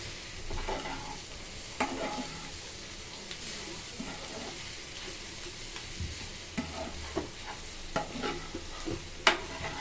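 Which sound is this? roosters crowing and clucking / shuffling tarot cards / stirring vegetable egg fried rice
stirring vegetable egg fried rice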